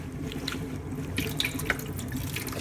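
Boiled stinging nettles are drained at a kitchen sink: a steady rush of water splashing into the basin, with a few brighter drips and spatters, close and alone.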